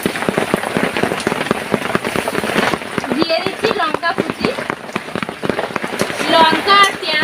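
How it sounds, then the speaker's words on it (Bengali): Chopped onion and chilli fry in leftover fish oil with dense, close crackling and spattering pops, loud throughout, while someone talks over the frying. "তেলের মধ্যে দিয়ে দিচ্ছি পেঁয়াজ কুচি, দিয়ে দিচ্ছি লঙ্কা কুচি"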